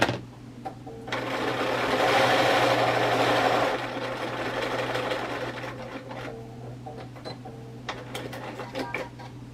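Sewing machine stitching a tack line across the top edge of a fabric bag, a steady mechanical whir that swells louder in the middle, then runs in shorter bursts with small clicks near the end.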